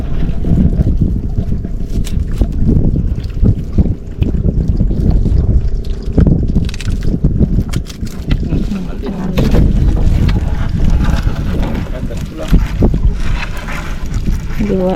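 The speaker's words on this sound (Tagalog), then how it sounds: "Ba, mahangin na." Wind buffets a small fishing boat out on open water during a crab catch, a loud rumbling gusty roar that batters the microphone continuously, with water sloshing and faint voices mixed in.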